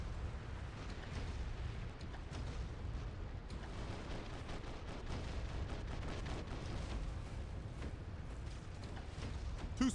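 Heavy explosions from airstrikes in the War Robots mech game roll almost continuously through the whole stretch, a dense, loud barrage of booms and blasts with no talking.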